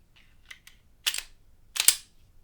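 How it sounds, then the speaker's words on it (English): Metal parts of a Canik TP9 pistol clicking and snapping together during reassembly after the barrel and recoil spring go back in: a few faint light clicks followed by two louder sharp slide clacks, alone. "Barrel spring back in. And reassemble the weapon."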